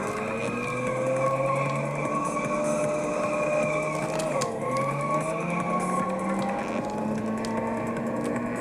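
Cars race in a twin-stick racing video game on PS4 or Xbox One: continuous synthetic engine whines rise and fall in pitch over a steady rumble, loud and unbroken, with no talking.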